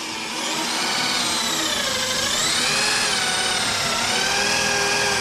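A power drill whines steadily while drilling dimples into spring packs, a sustained high motor tone that wavers slightly in pitch as it works, close and loud with no talking.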